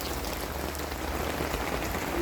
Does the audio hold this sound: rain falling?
yes